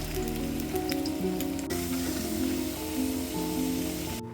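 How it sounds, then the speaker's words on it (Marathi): Potatoes deep-fry in oil in a kadai with a dense, continuous crackling sizzle like rain on a surface, while soft tonal background music plays underneath. "त्यानंतर एका कढईमध्ये आपल्याला बटाटे असे तळून घ्यायचे"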